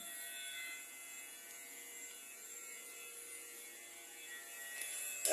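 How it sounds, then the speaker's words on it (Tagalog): A steady, quiet electrical hum with a faint high-pitched whine from a smoke purifier beside a DTF printer runs continuously with no talking. "Ito naman po ang aming smoke purifier."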